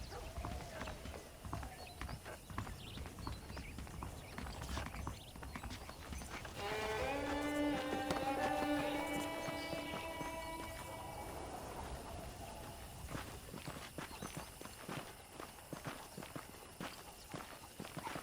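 Horse hooves clip-clop at a walk in the video game Red Dead Redemption, a fairly faint rhythmic patter under game sounds, with a brief tonal musical swell in the middle.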